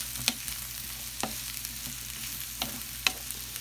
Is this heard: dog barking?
no